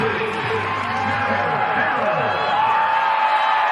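Stadium crowd cheers and whoops as Sarah Fuller kicks a football, a broad continuous roar with a voice speaking over it early on.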